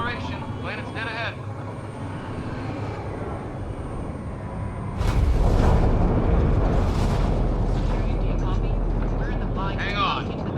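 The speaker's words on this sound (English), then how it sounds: "Initiating atmospheric entry." A spacecraft in Mass Effect Andromeda makes its atmospheric entry, a steady engine drone swelling into a loud, continuous roaring rumble halfway through, with voices speaking over it.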